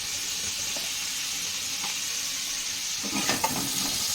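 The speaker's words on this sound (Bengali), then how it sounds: "দিয়ে পটলটাকে ভালো করে ভেজে নেব।" Pointed gourd (potol) frying in oil with salt and turmeric gives a steady, soft sizzle and hiss throughout, with a few louder stirring scrapes near the end and no talking.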